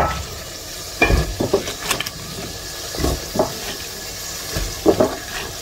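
Cauliflower and other vegetables tossed into a pan of frying spice paste, giving a steady low sizzle with several scraping, clattering stirs of a spatula against the pot, fairly close.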